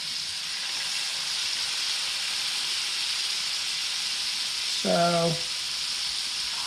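A sous vide filet steak browning in a very hot pan gives a loud, steady sizzle throughout, with a short spoken word breaking in near the end.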